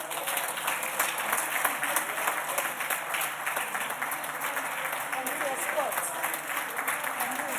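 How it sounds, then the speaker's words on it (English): Sustained applause fills a parliament chamber as MPs honour a retiring staff member. The clapping stays dense and steady from start to finish, with murmuring voices mixed into the crowd. "you can go ahead and clap for her."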